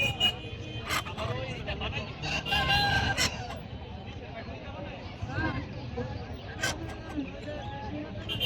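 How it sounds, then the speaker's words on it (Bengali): Silkie chickens cluck and a rooster crows amid a busy, noisy crowd at a winter poultry market, with people talking throughout. "দেখতে পাচ্ছেন সিল্কি মুরগি"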